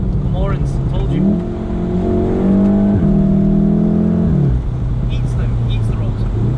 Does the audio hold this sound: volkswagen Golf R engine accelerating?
yes